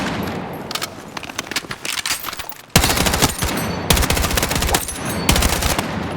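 Weapon burst fire in the video game Battlefield 6: loud, close gunfire in rapid bursts with short gaps between strings of shots, no talking.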